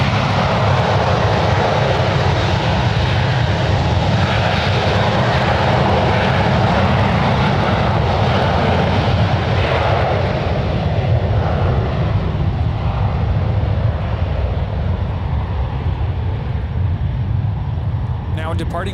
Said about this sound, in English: Departing on 1 right is JetBlue Airways Flight 416, departing to New York. It's a 7-year-old Airbus A321.